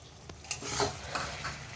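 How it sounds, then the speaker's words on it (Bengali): Rice flour slurry being stirred into a simmering fish-head curry with greens in a pan, soft scraping spoon strokes over a steady low sizzle, with a few louder clinks near the start. "তো আমি একটু চালের গুঁড়ো একটু গুলিয়ে দিচ্ছি এটা"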